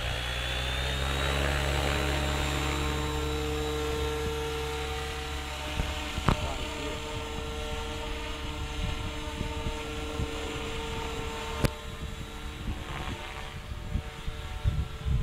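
A Trex 700E RC helicopter flying outdoors, its steady whining rotor and motor drone held at moderate distance, with wind buffeting the microphone and a few sharp clicks near the end.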